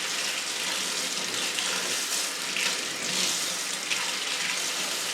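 Warm tap water runs steadily into a basin for soaking orchids during repotting, a constant close hiss and splash with no talking.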